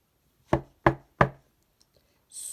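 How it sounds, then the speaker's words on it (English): Three sharp knocks on a window in quick, evenly spaced succession, close and crisp, followed by near silence and then a faint hiss at the end. "Mole rapped on Bear's window."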